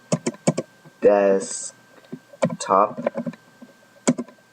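Keyboard keys clicking in short bursts while a command is entered at a computer terminal, close and crisp, with someone talking in between the typing.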